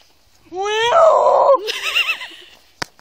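A person imitates a walrus scream with a loud, rising, strained wail that breaks into a warbling cry and then fades, ending in a short sharp click.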